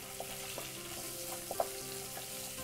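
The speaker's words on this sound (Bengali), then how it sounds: "এখন স্টপটা জ্বালিয়ে দিলাম মিডিয়াম আছে ভাজতে হবে" A pan frying on a stove at medium heat gives a quiet, steady sizzle, with a few soft clicks and scrapes from stirring. No one speaks.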